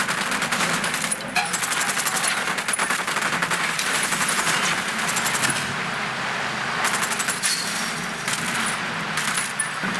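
Rapid automatic gunfire in a tactical shooter video game played on an ASUS Vivobook 16 laptop, dense continuous bursts of shots mixed with game effects, steady and loud throughout.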